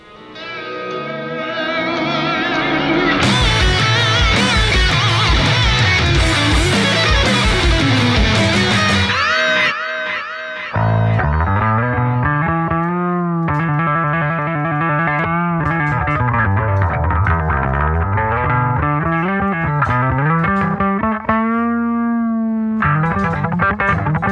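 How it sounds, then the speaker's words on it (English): A distorted Epiphone Thunderbird Classic Pro IV bass guitar plays a riff with heavy effects, starting with dense gritty chords, then shifting to a cleaner, melodic line of sliding low notes. "I'm gonna play some tracks for you, give you some extra tones."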